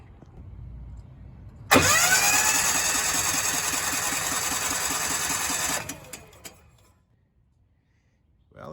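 The engine of a Miller Bobcat 225 welder cranks loudly for about four seconds in a fast, even whirring rhythm without catching, then stops, followed by a few faint clicks and near-silence.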